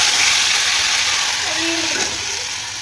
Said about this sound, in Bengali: পেস্ট করা মশলাটা আদা কাঁচা লঙ্কা টমেটো পেস্টটা দিয়ে দিলাম